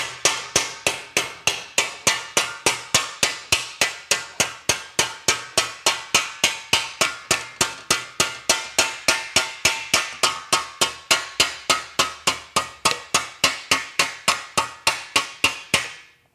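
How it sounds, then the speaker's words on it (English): A slap hammer taps sheet metal down against a post dolly while building a motorcycle fuel tank, giving a long, steady run of sharp metallic strikes at about three per second, close and clear with no talking. "now we'll tap it down against the post dolly with the slap hammer"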